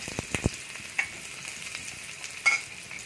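Steady oily sizzling of thinly sliced shallots frying in coconut oil in a pan, with a few soft stirring clicks and scrapes scattered through.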